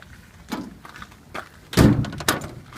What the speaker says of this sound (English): I'm going to close these doors once I've taken video of inside it.